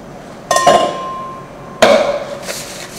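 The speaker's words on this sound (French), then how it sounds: "On va commencer par hacher l'ail." A knife chops half a garlic clove on a board: two sharp, separate knocks, each with a brief metallic ring that fades quickly, close and fairly loud.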